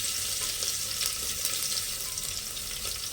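Garlic frying in hot oil for an avare kalu sambar, a steady close sizzle and crackle with faint stirring, no talk.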